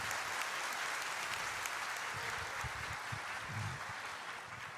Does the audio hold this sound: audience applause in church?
yes